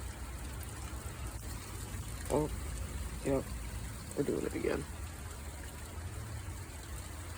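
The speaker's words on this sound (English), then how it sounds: "But very, very hard rain here." Very hard rain mixed with hail as a cold front sweeps over Portland, Oregon, a steady dense hiss running throughout beneath a few short spoken exclamations.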